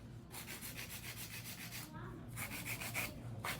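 A hand nail file scrapes back and forth across an acrylic nail in quick, steady strokes, a close, soft rasping that keeps a continuous rhythm with a few brief pauses.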